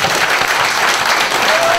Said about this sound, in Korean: 뜨거운 박수 다시 한번 부탁드리겠습니다